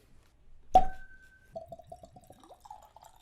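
Evan Williams Single Barrel bourbon poured from a bottle into a glass: a sharp clink, then a short run of glugging, bubbling pours, close and alone.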